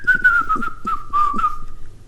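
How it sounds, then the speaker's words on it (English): A person whistles a short melodic tune, a clear sustained pitch gliding through several notes in quick phrases, close and loud over about two seconds with no talking. "Whistling is really fun to do, and it's fucking torture for anyone listening to it."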